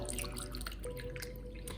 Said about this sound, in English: I'll just put a cup of the alkaline water